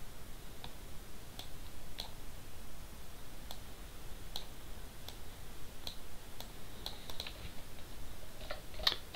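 Sparse, quiet clicks of typing on a computer keyboard tap out at an irregular pace over a low background hiss, with no voices.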